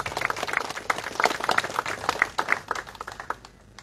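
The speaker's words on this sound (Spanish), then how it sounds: "Fuerte los aplausos" An audience at a groundbreaking ceremony in Bella Vista applauds, a crowd clapping in a quick, irregular patter that gradually thins and fades out near the end.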